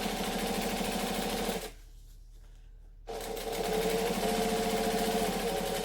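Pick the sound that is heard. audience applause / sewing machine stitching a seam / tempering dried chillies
sewing machine stitching a seam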